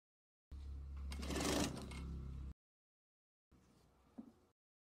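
A sewing machine stitches fabric pieces in a quick whirring burst of about two seconds, followed after a pause by a shorter, quieter run.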